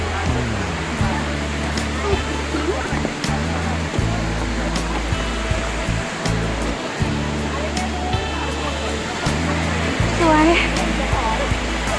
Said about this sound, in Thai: เราถึงแล้วน้ำตก